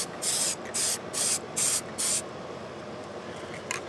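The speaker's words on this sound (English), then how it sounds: "So I just got a can of white spray paint, and I'm gonna spray these." A can of white spray paint hissing onto casts in five short, even bursts, each about a third of a second, close and fairly loud, followed by quiet room tone.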